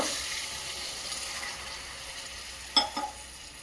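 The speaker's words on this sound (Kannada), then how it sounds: "ನೋಡಿ, ಹುರ್ಕೊಳ್ತಾ ಇದ್ದೀನಿ ಎಣ್ಣೆಯಲ್ಲಿ" Bitter gourd fries in oil for a palya, a faint, even sizzle close by, with a couple of sharp spoon clinks against the pan near the end.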